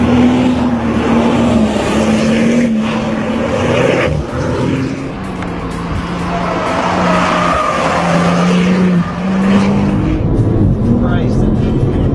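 A 2010 Porsche 911 Turbo is driven hard on a race track. The engine drones loud and steady from inside the car, rising and falling through the corners, with tire noise throughout and a person talking over it.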